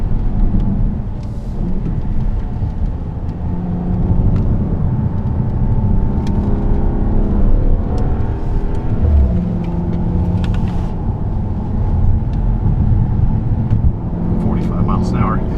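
A 2018 VW Passat GT engine drones steadily while driving, a loud continuous low rumble with road noise inside the cabin and some engine note shifts.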